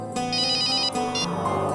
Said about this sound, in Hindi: लगता है किसी आशिक का फोन आया है